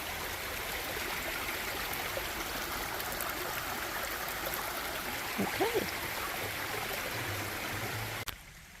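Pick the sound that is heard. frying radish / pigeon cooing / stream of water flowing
stream of water flowing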